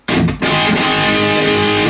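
Electric guitar played through a Kemper Chop Tones dual rack high-gain amp profile: a dense, loud, distorted chord attack that rings out and sustains steadily, with a brief dip after the first strike.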